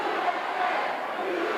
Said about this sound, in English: now we've got a cheer going on, and the cheer is USA